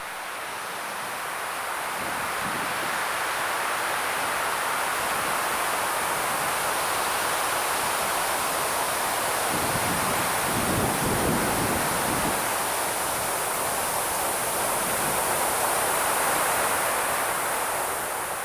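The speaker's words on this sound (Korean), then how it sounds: "소량길을 한껏 실은 바람이 불어옵니다." Wind blows steadily through a dense pine forest along a path at Gochang Eupseong fortress in Korea, a broad, even rushing hiss that swells slightly midway, with no voices.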